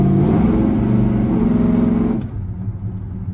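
A 1968 Dodge Coronet 500 with a 440 V8 revs hard, the engine roaring loud and close with a throaty harmonic drone, then dropping sharply back toward idle as the throttle is released.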